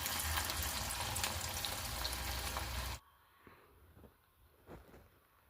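Cauliflower pakoda pieces frying in hot oil give a loud, dense sizzle for about three seconds, then the sound cuts to a quiet room with faint clinks.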